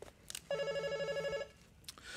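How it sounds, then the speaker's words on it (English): A telephone rings during a Buddhist sutra lecture, one sustained bright electronic ring lasting about a second at moderate level, with faint room noise around it and no talk. "I should have turned off the phone. Well, it'll stop ringing in a minute."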